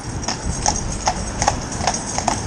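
A pair of Gelderlander horses in harness work together, their hooves giving a brisk, steady clip-clop of close, distinct strikes on hard ground.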